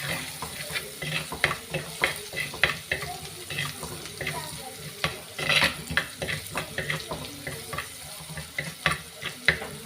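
Fish curry ingredients sauté in a pan, a spoon scraping and clicking against the metal in an irregular rhythm over a soft, steady sizzle, close by and with no talk.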